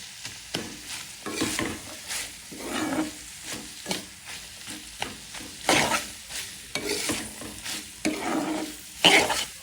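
Chickpeas fry in a pan with repeated scraping stirs of a spatula, loud sizzling bursts rising and falling in an uneven rhythm close by, cooked with a little boiled potato.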